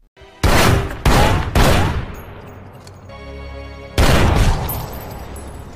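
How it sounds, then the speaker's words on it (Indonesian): Pistol shots ring out in a film scene: three loud, sharp blasts in quick succession, each with a ringing decay, then a quieter stretch and one more heavy shot. "Arthur pun langsung menembakkan pistolnya di bagian dada Harry"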